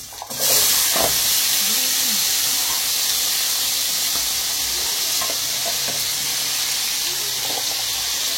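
Tomato sauce goes into hot oil with a sudden loud hiss that settles into steady, close sizzling and bubbling, with a few faint knocks, no one speaking.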